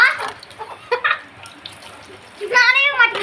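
Water poured over someone at bath time, splashing and gushing in short bursts and a louder final pour, mixed with a child's and an adult's nearby voices.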